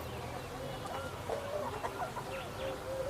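A large Kenbro rooster clucks repeatedly at close range, with short, uneven calls over a steady outdoor background and faint voices now and then.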